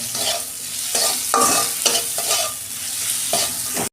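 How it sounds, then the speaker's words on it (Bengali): Onion frying in a pan for a tengra fish curry with potato and brinjal, loud, close sizzling punctuated by several sharp spatula stirs and scrapes, with no voices. "পেঁয়াজটা আমি একটু লাল লাল করে ভেজে নেবো।"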